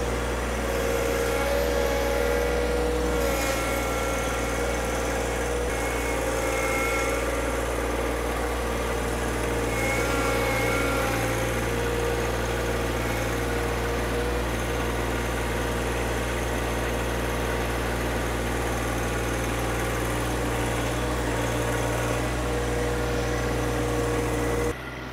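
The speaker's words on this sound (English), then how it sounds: "Again, you may need more throttle with this tractor than what you're used to." A John Deere 1025R compact tractor runs steadily near the listener, a continuous low diesel drone with a constant hum and mechanical rattle that lasts throughout, with no speech.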